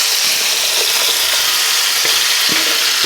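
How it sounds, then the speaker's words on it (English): Onions and string beans frying in a hot pan for Southern green beans with potato and sausage: a loud, dense, steady sizzle close up, broken by a few light knocks and stirring taps. "time to get our onions and our string bean in."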